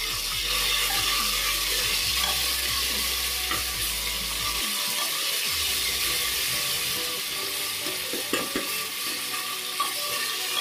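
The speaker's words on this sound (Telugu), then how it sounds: "ఇది పచ్చి వాసన పోయేంత వరకు వేయించుకోవాలి." Ginger garlic paste frying and being stirred in a pan for mutton curry, a steady close sizzle with occasional scraping stirs throughout, no talking.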